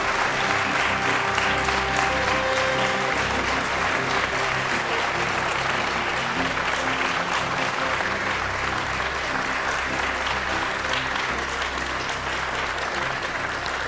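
Sustained audience applause at a Kenyan presidential debate, welcoming a candidate from the Alliance for Real Change Party; dense, even clapping fills the hall steadily throughout without fading.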